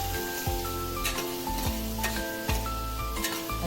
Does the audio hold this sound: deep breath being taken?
no